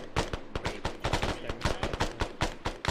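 Rapid gunfire in a military combat simulator, a steady stream of sharp close shots in quick bursts, some overlapping, loud and continuous with no voices over it.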